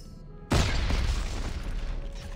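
A sudden heavy boom from a video game grenade launcher in Dead Space 3 cuts in after a brief lull and rolls into a long, noisy rumble that slowly fades; loud and close.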